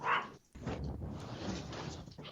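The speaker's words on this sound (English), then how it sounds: "The dog just found the cat." A dog gives a short bark followed by a soft, drawn-out whimpering whine, close and fairly quiet, indoors.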